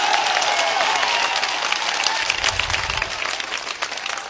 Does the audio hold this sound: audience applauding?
yes